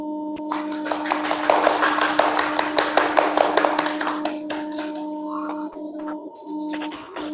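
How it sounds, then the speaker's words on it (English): Conference audience at an electrical engineering and computer science event applauding a keynote speaker and moderator, with a sustained burst of clapping over a steady hum that fades out after about five seconds. "please give applause to our keynote speaker and our moderator for the first session"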